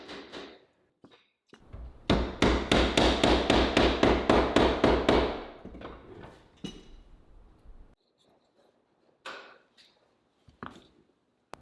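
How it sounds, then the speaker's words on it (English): A rapid, even series of about a dozen sharp hammer taps driving metal fret wire into a wooden fretboard, close and loud, followed by a few scattered lighter knocks. "tapped them in with a hammer"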